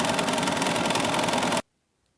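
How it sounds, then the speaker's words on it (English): An embroidery machine quilting the borders of a table topper runs with a fast, steady rhythmic stitching hum up close, then stops abruptly into silence. "So now you just allow your machine to run"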